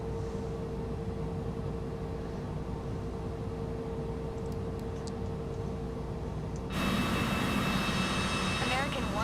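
An airliner's jet engines spool up for takeoff in Flight Simulator 2024, a steady broadband roar with a thin whine that abruptly grows louder and brighter near the end, while a voice talks over it.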